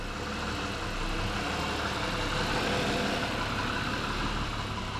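A car engine runs steadily after being refitted with its standard injectors, burning off excess fuel dumped into the exhaust; a continuous low rumble with broadband noise holds at an even level throughout, with no talking.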